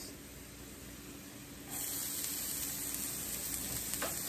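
Onions being added to a hot pot for stuffed acorn squash, faint at first, then a fuller steady sizzle that jumps up partway through and holds, with no talking.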